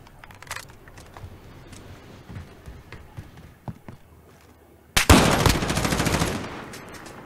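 Gunfire from a competitive shooter match erupts as a sudden loud, rapid burst of automatic shots that rattles on for about two seconds after scattered quieter footsteps and clicks.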